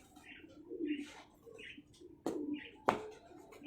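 A pigeon coos in soft, repeated rolling calls close by, interspersed with a couple of sharp knocks or clicks and faint background voices.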